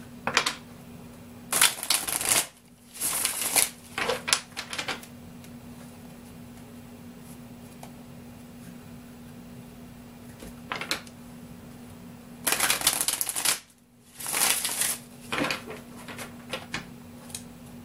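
Tarot cards are shuffled in a few short, papery bursts of riffling separated by long quiet stretches, with a steady low hum underneath and no talking.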